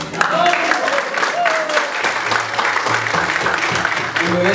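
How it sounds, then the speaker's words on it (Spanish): Concert audience applauding at a small venue during an album launch show, a dense steady wash of clapping and crowd noise throughout with voices mixed in. "Sí, un aplauso para él."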